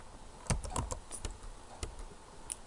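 Quick keystrokes on a computer keyboard while filling in a form and tabbing between fields, a scattered run of light clicks at close range with low background hiss.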